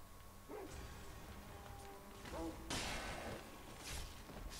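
Dogs in the Sekiro: Shadows Die Twice game setting of Mibu Village bark and yip in short scattered bursts, moderately near, over a low game ambience.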